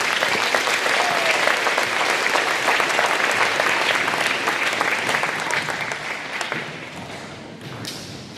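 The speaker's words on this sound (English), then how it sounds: "So let's give them all another round of applause." Sustained dense applause from a crowd at a school awards ceremony for athletes and musicians, loud and even throughout before gradually thinning toward the end.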